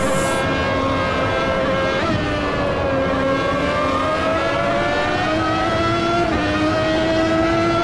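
A race car in Automobilista 2 at Silverstone brakes hard, its loud engine note sliding down in pitch with gear changes, a continuous close, dense roar with no talk.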